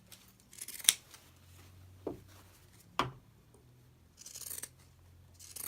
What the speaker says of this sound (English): you're going to cut off all that excess